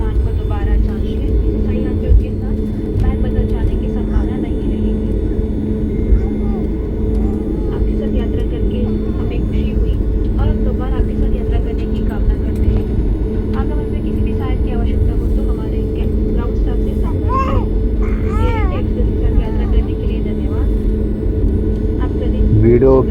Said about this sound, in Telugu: రన్వే పై నుండి స్టాండ్లోకి వెళ్తా ఉంది